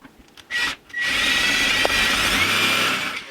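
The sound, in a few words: drill boring into stainless steel sink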